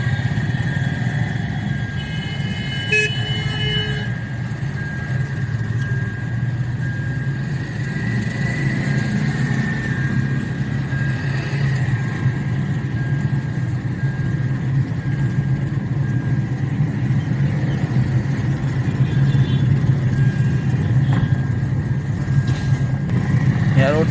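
A Hyundai Santro car engine hums steadily with a low drone throughout a test drive, recorded from inside the cabin, while people talk over it.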